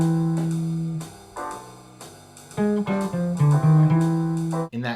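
Clean jazz guitar lick, a quick run of single notes and double stops climbing up the fretboard into a higher position, played close and alone with a brief pause partway through.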